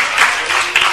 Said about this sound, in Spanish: Un aplauso por los que se han salvado.